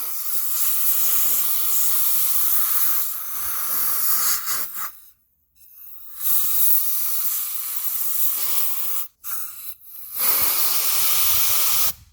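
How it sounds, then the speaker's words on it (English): Compressed air blasts dirt out of a brake caliper on a 2018 Hyundai Elantra, a loud steady hiss broken by a few short pauses, with no talking. "Then get a blower and just blow it out"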